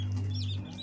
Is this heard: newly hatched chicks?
yes